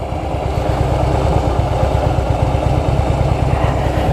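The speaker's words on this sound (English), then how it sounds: "You're just slowly letting the clutch out with the throttle pop." A motorcycle engine runs with a rapid, steady throbbing beat during clutch control and rev-matching practice, loud and close with a slight rise in revs.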